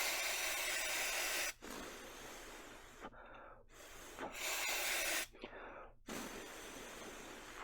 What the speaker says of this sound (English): Alright, grabbing the freeze spray.